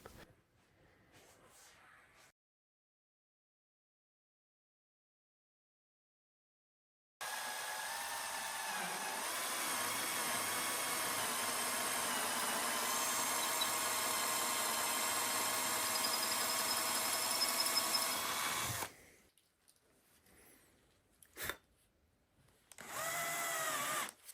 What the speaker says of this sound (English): I have to drill a pilot hole.